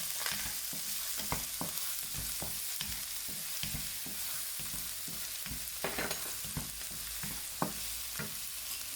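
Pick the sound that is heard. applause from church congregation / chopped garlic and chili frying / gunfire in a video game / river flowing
chopped garlic and chili frying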